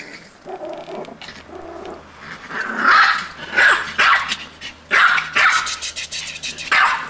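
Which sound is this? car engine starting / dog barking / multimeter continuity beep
dog barking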